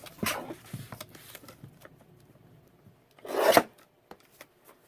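Paper being trimmed for a handmade fall journal, with two short, crisp rasping cuts, one near the start and a louder one later, separated by quiet rustling handling.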